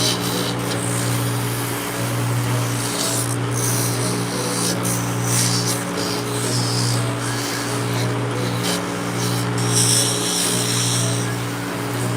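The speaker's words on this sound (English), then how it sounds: "What I'm doing here is kind of a smoothing the wax off, because it's too thick." An instrument scrapes lightly over a wax denture try-on, a soft, continuous rubbing that shaves off excess wax over a steady mechanical hum nearby.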